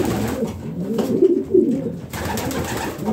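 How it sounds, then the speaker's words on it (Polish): Homing pigeons coo softly at close range, a few low rolling calls rising over faint background rustle in a loft. "lubię jak gruchają pięknie"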